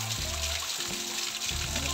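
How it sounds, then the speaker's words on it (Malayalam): Water pours and splashes steadily from a waterfall inside the Varkala tunnel, a continuous rushing wash heard at moderate level with voices talking over it. "ഇത് പൊളിച്ച് കേട്ടോ, അടിപൊളി വെള്ളച്ചാട്ടം, നല്ല വെള്ളച്ചാട്ടം."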